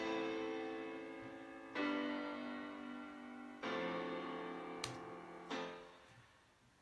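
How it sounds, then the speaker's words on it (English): Steinway Grand piano plugin in Logic playing a slow, soft sequence of sustained chords, each new chord struck at a clear attack and left to ring and fade, with no voices. "I'm really fond of the Steinway Grand piano, but that's basically the piano plugin that I used for this track"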